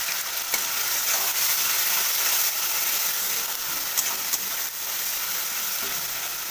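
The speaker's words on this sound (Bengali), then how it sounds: "এবার আদা, কাঁচা লঙ্কা আর রসুনের একটা পেস্ট বানিয়ে রেখেছি, সেটা তেলের মধ্যে দিয়ে দিলাম। এবার ভালো করে কষিয়ে নেব।" Ginger, green chili and garlic paste frying in hot oil for potol chingri makes a steady, even sizzle and hiss throughout, with a few faint clicks of stirring, moderately loud and uninterrupted by speech.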